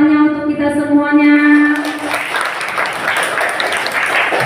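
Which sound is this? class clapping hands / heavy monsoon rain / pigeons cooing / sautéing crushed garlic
class clapping hands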